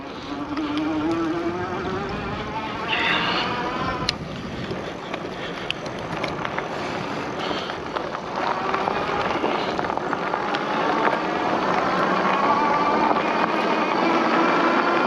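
An Engwe M20 electric bike on a test ride gives a continuous buzzing motor whine that climbs in pitch as it accelerates, mixed with steady wind rush and occasional rattles.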